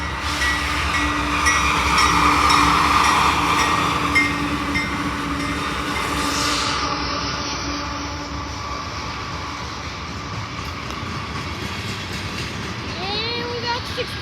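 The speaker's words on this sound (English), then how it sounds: "Favorite train, 63V. The stinky train." Freight train 63V hauling trash cars passes close by in Cresson, a loud steady rumble of rolling wheels and rail noise that eases slightly midway, with faint squeals near the end and voices at times.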